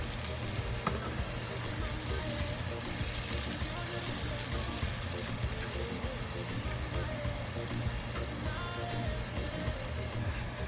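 Garden egg (eggplant) sauce sizzles and bubbles in a pot while being stirred, a steady close-up crackle with occasional scraping, continuous throughout.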